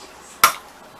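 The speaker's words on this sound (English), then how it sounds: "I'm gonna open the can Renegade style" A can of cheap-brand coconut milk is stabbed open in one sharp, bright metallic chop. The close, loud strike decays quickly into quiet.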